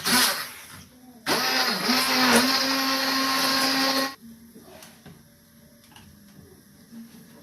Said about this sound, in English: So I'm just using my hand blender.